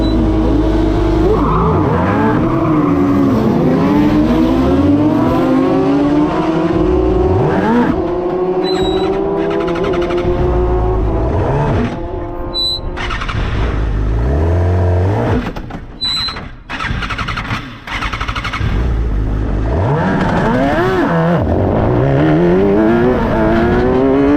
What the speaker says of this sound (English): So this unseen footage is how my first launch went from a race start.